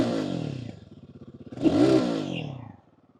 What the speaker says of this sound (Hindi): मैं बाइक एक बार स्टार्ट करके आपको एग्जॉस्ट नोट सुनाता हूं।